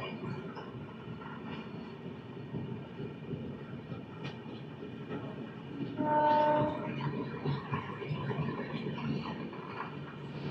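The Telangana Express passes with a steady rumbling roar of wheels and carriages, and a short, loud horn blast sounds midway through.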